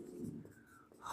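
Pen writing on paper during a geometry lesson on circle theorems, a soft continuous scratching that runs steadily through the moment with faint strokes, close and quiet, no talk over it.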